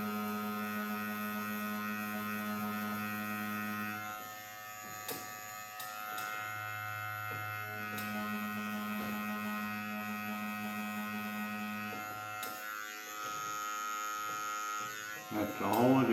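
A tattoo machine buzzes steadily with a needle working on practice skin, its hum cutting in and out as it runs. Someone talks quietly over it.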